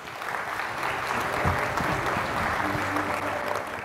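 An audience at a business summit in New South Wales applauds a speaker's introduction, steady moderate clapping that swells slightly in the middle and carries on evenly.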